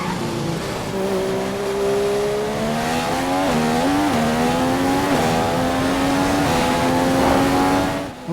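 A racing car engine howls through a qualifying lap at Spa in Belgium in a racing video game, its pitch climbing steadily with brief dips at gear shifts through Eau Rouge, loud and continuous with no talk.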